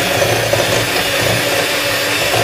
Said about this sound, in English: Using an electric mix, whisk it up